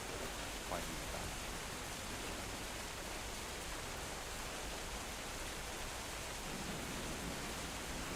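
Steady rain heard through a stream participant's microphone forms a continuous hissing wash, even and moderately loud throughout, with no clear speech on top.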